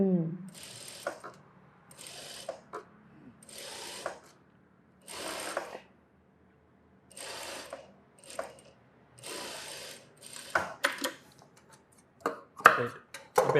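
A sewing machine stitches blouse fabric in short separate runs, each a quick whirring burst of stitching with pauses between, ending in some clicks and handling noise.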